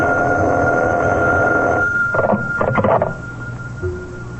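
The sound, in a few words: telephone ringing, radio drama sound effect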